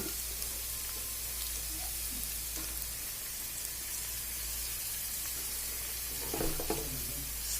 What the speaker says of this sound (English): So my garlic is brown, and now I'm going to add the onions